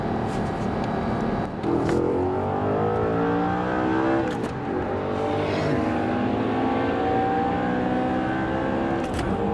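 An Audi R8 with 415 horsepower and a Bugatti Veyron accelerate hard side by side on a motorway run, engines rising steadily through repeated upward sweeps with brief gear-change dips, heard loud from inside the R8 cabin.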